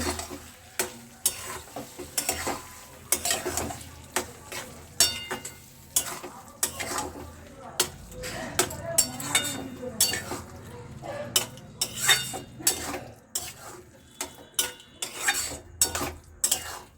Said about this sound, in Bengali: এবার তরকার ডালটাকে আমি ভালো করে নাড়িয়ে নেব।